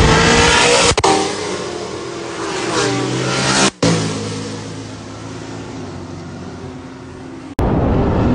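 Chevrolet Corvette Z06 race cars in a 60-150 roll race in Mexico roar loudly as they accelerate past, with revving engines building and fading across several abrupt cuts.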